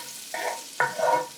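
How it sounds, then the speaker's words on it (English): Garlic fries and is stirred in a pan, with short scraping stir strokes over a brief sizzle, close and moderately loud with no voices. "Now give your garlic maybe 30 seconds. We don't want to take much time frying this."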